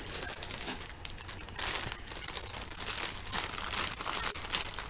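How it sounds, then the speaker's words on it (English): Close, crinkly rustling of paper or plastic continues throughout, soft and uneven with small bursts of crackle. "Sorry for the rustling."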